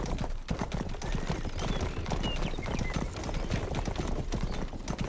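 A police horse's hooves in the video game Rustler clatter in a fast, unbroken clip-clop, loud and close for the whole stretch, with no voices over it.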